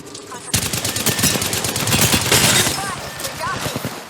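Bursts of rapid automatic gunfire from a first-person shooter video game played on a GTX 560 Ti graphics card, dense and loud, with overlapping shots and brief game voice callouts.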